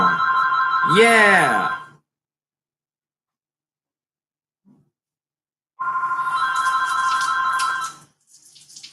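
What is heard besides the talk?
house phone ringing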